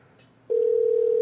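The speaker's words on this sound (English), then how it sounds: "You can even hear the ringing noise" A telephone line tone sounds on a call, starting abruptly after a brief quiet moment and then holding as a loud, steady single-pitched tone to the end, with no talking.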